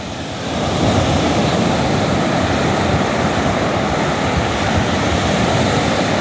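Surf rolls onto a beach at Padubidri or Surathkal near Mangalore as a loud, unbroken roar of breaking waves with a wind-like rush, rising slightly in the first second and then holding steady.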